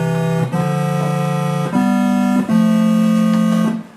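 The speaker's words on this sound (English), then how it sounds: "This is how my very awesome synthesizer sounds like" A browser-based JavaScript synthesizer plays sustained buzzy tones in a slow sequence of four held notes, each a few steps apart, loud and droning with no voices.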